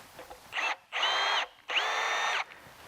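A power drill spins an M8 bottoming tap to clean old threads, heard as three close, loud, steady whirring bursts: a short one followed by two longer runs, with brief pauses between.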